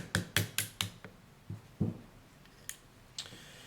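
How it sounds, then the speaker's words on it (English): A punch taps out the locking block pin of a Glock 23 pistol during disassembly. Sharp metallic knocks come close and clear, four quick strikes followed by slower, spaced taps and a few fainter clicks, with no voices. "now we're going to knock out the locking block pin"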